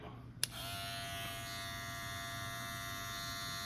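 A Suprent electric hair clipper switches on with a click and runs with a steady, close, even buzzing hum that holds without change.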